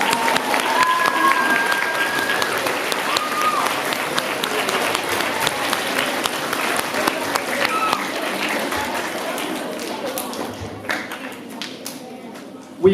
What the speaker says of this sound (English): Okay, you may clap.